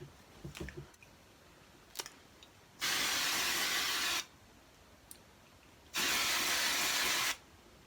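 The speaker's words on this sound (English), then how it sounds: "I've just sprayed my hair and I've got a little bit of pink bits in my hair" Pink wash-off hair dye is sprayed onto hair from a can in two long hissing bursts, each about a second and a half, close and loud, separated by quiet handling clicks and rustles.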